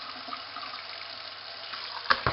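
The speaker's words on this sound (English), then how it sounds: "When it comes on to kidney bean, any kind of beans you're cooking, you want to ensure that you wash it properly." Running water pours over kidney beans in a sink as they are rinsed, a steady close wash with a couple of louder splashes near the end.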